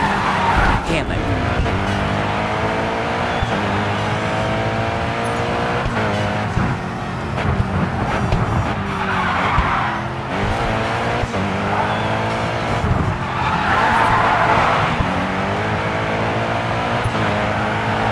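Race car in the GRID 2 driving game spinning out with tires skidding and screeching over a continuous engine drone, loud and sustained throughout, with a voice talking over it.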